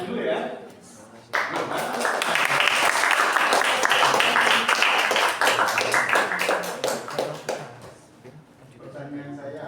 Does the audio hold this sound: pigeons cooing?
no